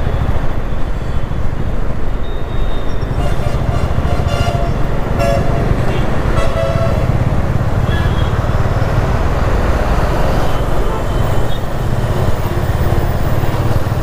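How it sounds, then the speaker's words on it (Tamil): Dense road traffic heard from a moving Honda Hness CB350 motorcycle, with a constant roaring rumble of engines and wind, and short horn toots scattered throughout. "இந்த டிராஃபிக்லேருந்து நாங்கள் நைஸ் ரோடு பிடிக்கிறதுக்குள்ளே கிட்டத்தட்ட 1 ஹவர் ஆகிடும் போல் இருக்குது, அவ்வளோ டிராஃபிக்கு."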